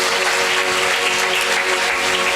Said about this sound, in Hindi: अपने हाथों को उठाओ, खुदा का धन्यवाद करो और जोर से ताली बजाओ यीशु के लिए।